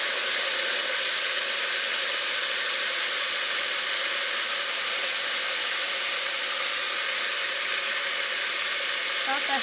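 Aloo gobi of potato and cauliflower simmering in a pan on low flame, a steady, even hiss of gentle sizzling that holds unchanged throughout.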